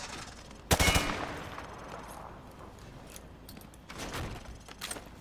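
Gunfire punching through light cover in Call of Duty Modern Warfare 2 Remastered, a loud burst of shots followed by a fading tail, then a second quieter burst of shots near the end.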